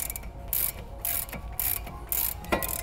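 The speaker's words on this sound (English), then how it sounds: "use a ratchet to slowly press the rotor out" A ratchet clicks in steady bursts while a brake rotor is slowly pressed off the hub of a Subaru BRZ / FRS / 86, using a bolt threaded into the rotor. The bursts are close and moderately loud, with short pauses between strokes and no talking.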